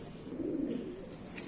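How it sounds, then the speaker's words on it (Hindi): A small male chudidar pigeon, held in hand, lets out a sustained low coo that swells through the middle and trails off, alone over faint background noise. "बहुत ही छोटा कबूतर है ये"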